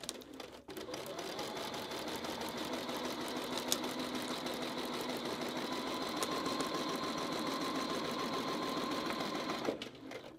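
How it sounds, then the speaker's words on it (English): A sewing machine stitches a paper-pieced Christmas tree quilt block, running a steady, close, continuous whir for about ten seconds with no pauses or talking. "I'm going to sew all the way from the edge down here all the way to the edge"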